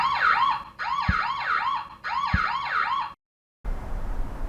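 A CammPro M831 police body camera sounds its siren mode: loud, rapid rising-and-falling electronic wails repeat in three bursts, then cut to silence before faint background noise returns.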